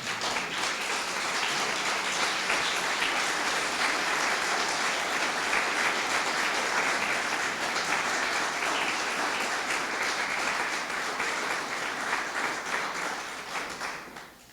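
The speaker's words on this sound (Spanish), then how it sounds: "Dale un aplauso al Señor." A church congregation applauds steadily for about fourteen seconds, a dense, even wash of many hands clapping that fades slightly at the end, with no talk over it.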